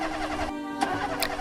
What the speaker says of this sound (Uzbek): Mashinani yurgizmoqchi bo'ldi.